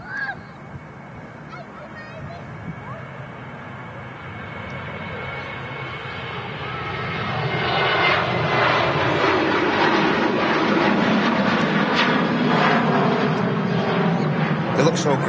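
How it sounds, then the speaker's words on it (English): A Sun Express Boeing 737 with winglets starts its takeoff roll at Manchester Airport, bound for Antalya. Steady engine noise swells into a loud, sustained roar partway through and holds to the end. "Sun Express heading back to Antalya, now on the roll."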